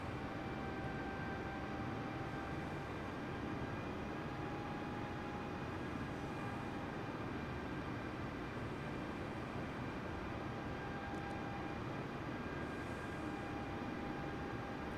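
An airliner idling at an airport stand in Microsoft Flight Simulator, with a Scoot low-cost jet parked alongside, giving a steady broadband engine and air-conditioning drone with faint high whines, unchanging and continuous throughout.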